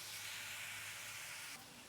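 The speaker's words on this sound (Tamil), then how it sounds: "குக்கர் விசில் வந்துச்சு" Steam rushes from a pressure cooker whistle in a home kitchen while a tomato curry cooks, a steady loud hiss lasting about one and a half seconds before easing to a softer, lower hiss.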